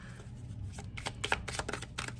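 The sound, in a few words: shuffling tarot cards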